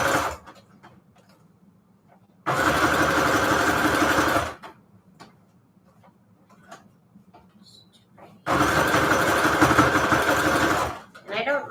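A sewing machine stitches a paper collage onto a tag in two loud, steady bursts of a few seconds each, separated by quieter handling and soft talk.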